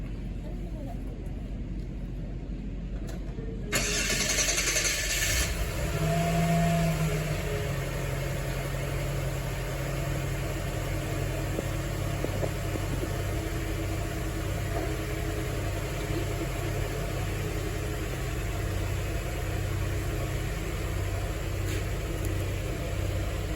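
An engine cranks and catches at about four seconds, then settles into a steady low idle that runs on for the rest of the clip, with faint talk underneath.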